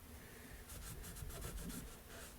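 A rag soaked in brake cleaner rubbing a Case garden tractor spindle, a run of quick scrubbing strokes, faint and close, with no talking.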